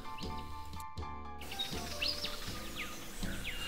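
A rufous songlark sings in short, repeated whistled and chirping phrases, clear and fairly close over a light outdoor background.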